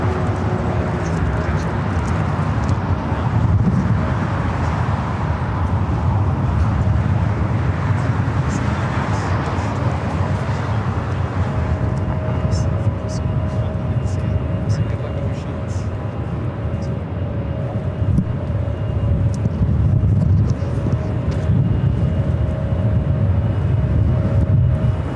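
A Delta 757-300 airliner departs LAX with a steady, deep roaring rumble that fills the whole stretch, mixed with wind buffeting on the microphone and voices faintly underneath.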